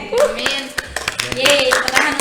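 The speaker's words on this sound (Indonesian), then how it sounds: "tepuk tangan untuk kita semua" A small group applauds with a quick flurry of claps over excited voices, brief and close, the clapping mixed with talk and cheering.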